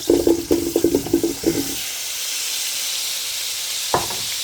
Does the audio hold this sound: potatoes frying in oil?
yes